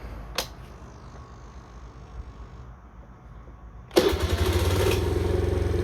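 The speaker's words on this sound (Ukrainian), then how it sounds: "Заводиться з півтичка." A Suzuki Lets scooter engine starts on the first try after a quiet spell, catching suddenly with a sharp burst and then settling into a steady, fairly loud idle.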